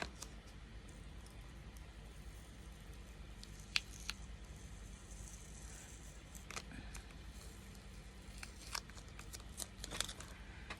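Painter's tape being slowly lifted from a dollar-store mirror frame gives faint, scattered crackles and small ticking pops over a quiet background, close by and without talk.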